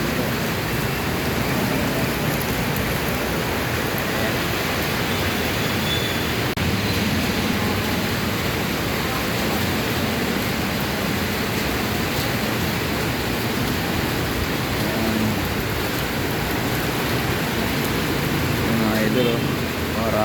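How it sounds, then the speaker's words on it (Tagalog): Heavy rain pours in a dense, unbroken hiss, steady throughout with no pauses. "napakalakas ng ulan ngayon"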